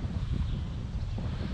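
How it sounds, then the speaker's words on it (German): Steady wind buffeting the microphone outdoors on a bike ride through the countryside from the Main toward the Rhön, a continuous low rumbling roar that fills the whole stretch without any voices. "das Einzige, was mich zu schaffen macht, das ist der Wind"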